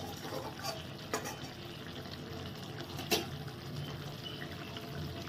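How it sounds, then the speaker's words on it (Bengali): Pabda fish curry bubbling gently in a pan on a home stove, a soft, steady simmer with faint liquid pops and a couple of light clinks. "এবার এর উপর ছড়িয়ে একটু ফুটে নি।"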